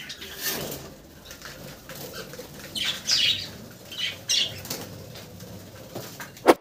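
An escaped pet bird flaps its wings indoors in short bursts, near and fairly quiet, with a few squawks and a sharp chirp at the end over a low room background.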